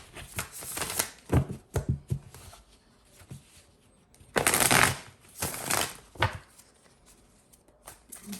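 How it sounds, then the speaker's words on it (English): Tarot cards are shuffled and pulled in bursts of riffling and sliding, close and crisp, with quiet pauses between several separate handling sounds. "Pull three cards."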